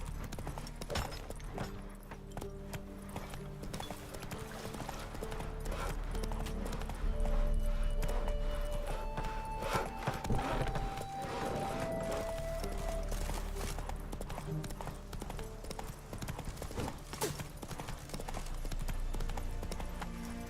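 Horse galloping in a video game with steady, rapid clip-clop hoofbeats over a continuous ambient music bed, fairly close, with a brief whinny-like tone partway through.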